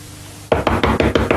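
A series of six firm, evenly spaced knocks on a door in a 1976 television drama scene, loud and close, beginning after a short quiet lead-in with no talking.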